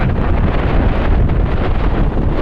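Strong, roaring wind at a mountain pass buffets the microphone in a continuous loud, rumbling rush with no other sounds.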